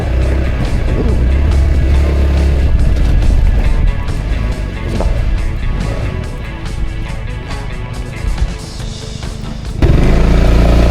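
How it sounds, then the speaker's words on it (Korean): A Honda Forza scooter engine runs loud and steady outdoors while the rider maneuvers to turn around, with a brief dip in level before the engine surges louder near the end. "아 오토바이 돌릴 데가 없어"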